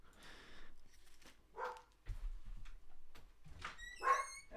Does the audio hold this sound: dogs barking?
yes